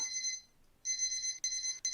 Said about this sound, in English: Let me turn off, okay, the timer.